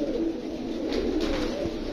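Pigeons at a loft during a five-day pigeon tournament in Amra Kalan coo in a low, steady purr, close and continuous over a broad background hum; no speech.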